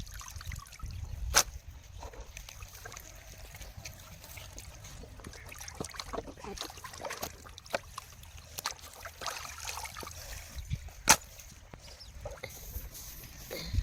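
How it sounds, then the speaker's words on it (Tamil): Dried fish being washed by hand in water, with intermittent splashing, trickling and dripping close by and a few sharp knocks, no talk. "அது நல்லா கருவாடு பற்ற வைக்கிறதுக்கு முன்னாடி நல்லா கழுவிக்கணும்"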